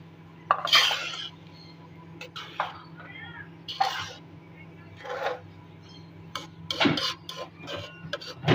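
Sweet jaggery rice is stirred in a pot, with a spoon clanking and scraping in short irregular bursts over a low steady hum, quiet and close.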